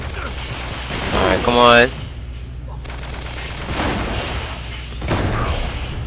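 Video game gunfire in Uncharted 3, a rattle of shots heard behind someone talking, with the firing continuing as scattered bursts around his voice.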